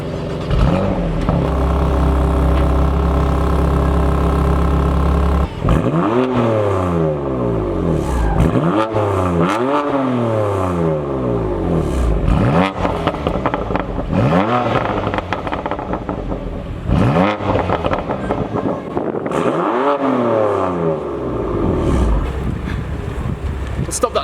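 BMW M2 Competition sports car engine idles, then revs hard in repeated sharp bursts that rise and fall, loud and close, with a voice talking briefly.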